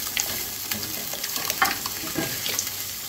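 Tomatoes hit a pan of frying scotch bonnet and onions for Nigerian stew, giving a steady, fairly quiet sizzle with light crackles and occasional stirring scrapes, no talking.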